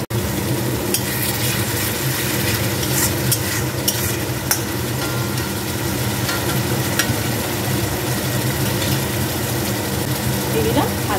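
Potatoes that were fried earlier go into a pan of spice paste that has been cooked down in oil. The paste sizzles loudly and steadily, with stirring scrapes throughout and no talk.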